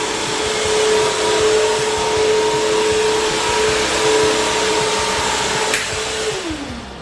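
A Bissell Crosswave floor cleaner runs with a steady whirring motor hum and airflow, loud and continuous on its own, and its tone drops near the end as it starts to power down.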